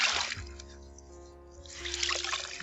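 A bed sheet being hand-washed, rubbed round in circles in a tub of water, gives wet swishing and sloshing at the start and end with a quieter dripping lull between.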